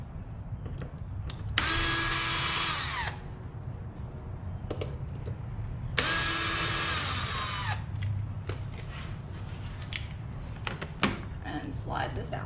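A power drill backs screws out of a Ninja 300 motorcycle during an air filter job, two sustained whirring bursts of about a second and a half each, loud and close, with workshop clatter and talk around them.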